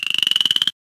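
A cartoon frog croaks in an educational counting game: one short, rapidly pulsing croak lasting under a second, then silence.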